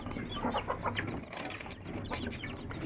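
Backyard hens and chicks cluck and chirp over one another at close range while waiting to be fed, with a busy, continuous chatter and occasional wing flutters.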